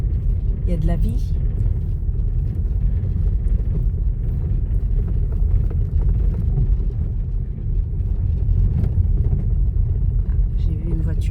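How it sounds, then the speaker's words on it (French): A car passes on a quiet country road near a distant house and sheep, heard as a low rumbling drone that holds throughout, with vibration and faint higher noises over it. "J'ai vu une voiture passer."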